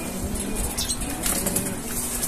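Pigeons flap their wings while bathing in water, a close burst of fluttering and splashing flaps with faint cooing in the background.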